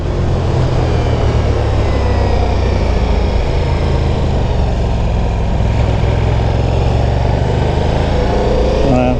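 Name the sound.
Ducati Diavel V4 motorcycle engine while riding and shifting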